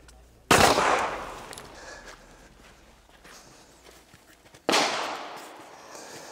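Two sharp pistol gunshots crack at a shooting range during a pistol exam, each loud and close with a ringing decay, spaced a few seconds apart over a quiet background.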